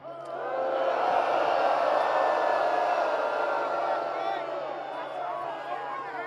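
A large crowd at a No Kings protest rally applauds and cheers, a dense sustained roar that swells quickly, holds, then slowly fades.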